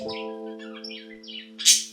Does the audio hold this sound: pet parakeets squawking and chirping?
yes